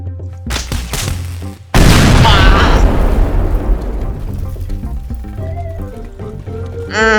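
An explosion in the video game Teardown, a sudden loud boom that bursts out and then decays into a long rumbling tail, preceded by a few sharp impacts, with voices talking faintly.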